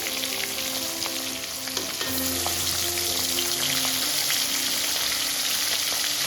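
Fish pieces frying in hot oil for an Assamese fish thali, a steady broadband sizzle with crackling pops running throughout, moderately loud and close with no talking.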